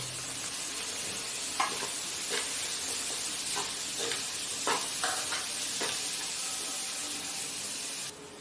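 Vegetables sizzle steadily in a hot pan, a constant loud crackling hiss broken by a few sharp clinks of stirring.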